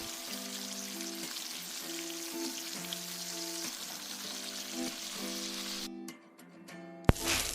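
Cooking oil left over from frying tofu sizzles steadily in a pan for sautéing a Bicol Express, a close, continuous crackle with faint spatter that drops off near the end before a sharp clink.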